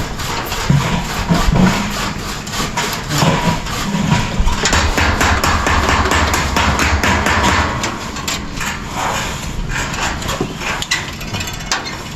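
Repeated hammer blows and rhythmic sawing on wood while building a house, busy and fairly close, with a low engine rumble underneath and occasional thuds.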